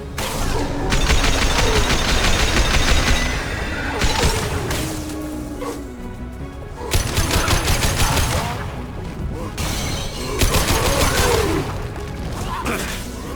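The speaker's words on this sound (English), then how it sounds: "Firing a high impact shot." Weapon fire in Mass Effect 2, loud bursts of rapid shots in several clusters separated by brief lulls, with whooshing effects and a voice underneath at times.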